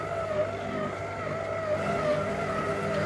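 Stand mixer kneading bread dough at speed, a steady loud motor whine with a constant droning hum, close and unbroken throughout.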